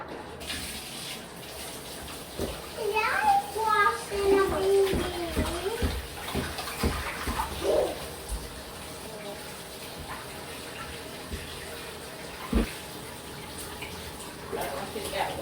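Tap water running into a baby bath at home, splashing and gushing steadily with bursts of sloshing, while someone talks gently over it.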